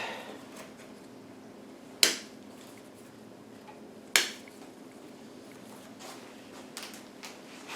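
Two sharp snips trimming the ends of rush cane while caning a chair, each crisp and close, spaced about two seconds apart over a faint quiet room background.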